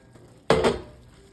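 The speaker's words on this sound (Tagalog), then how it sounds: "And then, remove the cover." A metal lid lifted off a boiling cooking pot of chicken tortilla soup, a sharp clank followed by a second lighter metallic knock, close by against a quiet kitchen background.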